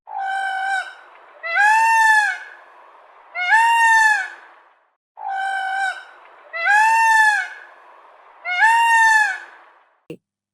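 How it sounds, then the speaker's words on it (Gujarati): A peacock gives loud, harsh, clear calls, six in all in two sets of three, each a rising nasal wail close by, with no other sound. "મોર તેહુક તેહુક બોલે છે"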